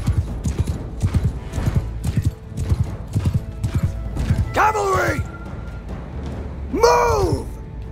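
Cavalry horses gallop in a rhythmic clatter of hooves, joined by two sharp neighs and shouted battle commands over a loud, busy scene.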